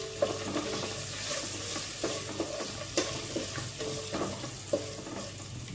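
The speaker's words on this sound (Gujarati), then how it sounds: "તો હવે આપણે આમાં માંડવીના દાણા ઉમેરી દઈશું." Peanuts sizzle in hot oil with popped mustard seeds and cumin in a pan, a steady soft frying hiss broken by several sharp scraping stirs at intervals.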